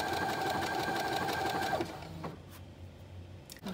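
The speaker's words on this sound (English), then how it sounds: "Now, I'm sewing from the right side of the bodice." A sewing machine stitches from the right side of a dress bodice with a steady, fast mechanical whir that stops just before two seconds. Quieter handling sounds follow.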